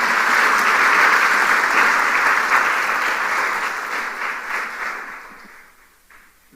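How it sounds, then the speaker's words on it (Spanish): A church congregation applauds at a sermon on God's manifestations during the pandemic, a dense, loud burst of clapping that holds steady and then thins and fades toward the end. "denle un aplauso a Cristo si puede"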